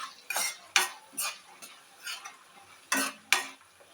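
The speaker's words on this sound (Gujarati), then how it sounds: "પાછું આપણે હલાવી લઈએ બધું" A spoon stirs flattened rice with turmeric and salt in a pan for Indori poha, making a string of short scraping scuffs and light metal clinks at an uneven pace, close up and fairly quiet, with no voices.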